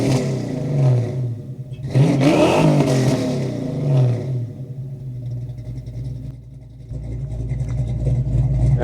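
A Fox Body Mustang's 351W V8 with a Flowmaster Delta exhaust revs from about eight yards away: one strong, rising rev swells and falls back to a steady rumbling idle, loud and alone.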